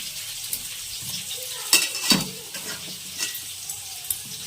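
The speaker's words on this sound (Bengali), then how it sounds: "এটা গরম হয়ে গেছে, এর মধ্যে দিয়ে দেবো 5 ফোড়ন, আমলকি" Amla and five-spice (panch phoron) frying in hot oil for a homemade amla pickle, a steady close sizzle broken by a few louder stirring scrapes and clinks of a utensil against the pan.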